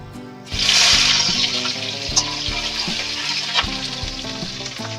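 Chopped onion hits hot oil in a pan for Bengali chana dal, with bay leaf, panch phoron and dried chili already in it. A loud sizzle bursts up and settles into steady frying, with occasional clinks under a faint background tone.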